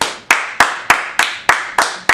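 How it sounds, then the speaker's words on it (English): Slow, evenly spaced claps ring out one by one, about seven sharp strikes spaced steadily apart, close and clear with nothing else behind them, in a radio show studio. "a round of applause"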